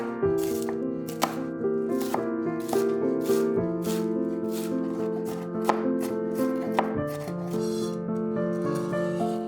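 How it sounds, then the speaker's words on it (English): A knife chops a quarter of a red onion finely on a cutting board for potato nachos, giving rapid, fairly steady taps over background music, with no talking. "I'm also chopping a quarter of a red onion as finely as possible"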